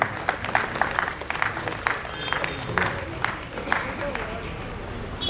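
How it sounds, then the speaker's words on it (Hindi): A crowd applauds at an Arya Samaj gathering, dense overlapping clapping spread across the whole stretch, moderately loud and fairly close, with voices murmuring underneath. "सब लोग ताली बजाएं, स्वागत"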